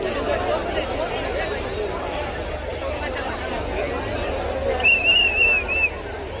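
A huge crowd gathers at the Jagannath Puri Rath Yatra in Puri, a dense, continuous babble of many voices, with a clear whistle rising above the din near the end.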